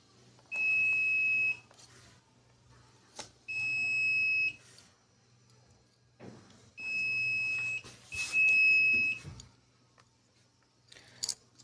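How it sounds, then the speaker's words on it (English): An RFID door-lock scanner built on a Raspberry Pi Pico rejecting a wrong access tag, giving four loud, steady electronic beeps about a second long each, the last two close together, with faint handling clicks between. "does not open the door but produces a beep sound signifying the wrong access key"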